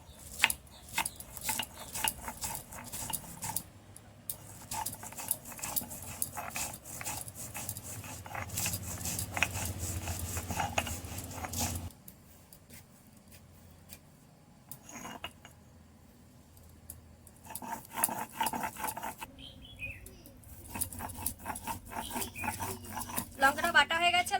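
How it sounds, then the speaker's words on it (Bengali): Green chillies and salt are crushed on a flat grinding stone, making a rhythmic gritty scraping and rolling stone-on-stone rub that recurs in bursts with brief quiet gaps between them. "এবার আমি লঙ্কা কটা বেটে নিচ্ছি।"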